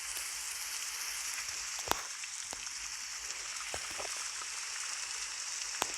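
Steady rain falls in the video game 99 Nights in the Forest, a constant even hiss with a few sharp drop ticks, heard alone without talk.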